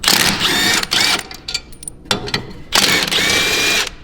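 Wrench working the blade bolt on a gas lawnmower, a 9/16 size, giving several close, loud bursts of ratcheting clicks separated by short pauses, with no talk.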